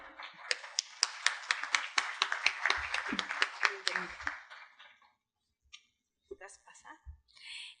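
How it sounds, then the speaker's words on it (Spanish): An audience at a talk on building supervision claps, giving a burst of applause that lasts several seconds and fades out, followed by faint scattered noise. "Un aplauso, por favor"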